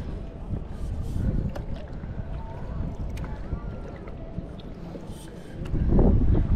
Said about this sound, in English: Just use the paddle to direct yourself which way you want to go.